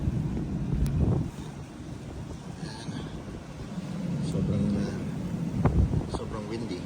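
Strong wind gusting across an open outdoor setting in falling snow, buffeting the microphone with loud low rumbling surges, and a person talks over it.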